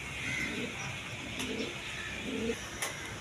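A pair of tulip pigeons coo softly in a few low, separate phrases against a steady background hiss, with faint clicks and no talking.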